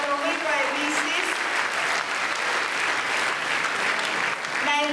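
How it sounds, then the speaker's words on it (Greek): An audience in a hall claps for girls who performed a dance at a tribute event, sustained dense applause close and loud from start to finish, with a voice speaking over a microphone at the beginning and end. "Να ευχαριστήσουμε και να χειροκροτήσουμε τα παιδιά, τα κορίτσια που χόρεψαν"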